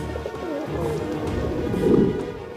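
Low, soft cooing of caged pigeons close by over a steady background murmur, swelling slightly near the end.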